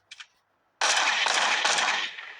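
Gunfire from a video game weapon: a brief click, then a sustained loud burst of rapid shots with a few stronger pulses, fading at the end.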